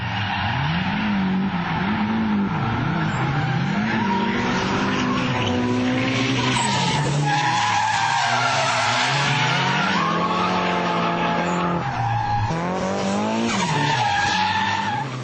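A race car corners hard, its tires skidding and squealing in long wavering screeches over a loud engine roar that rises and falls through the turns.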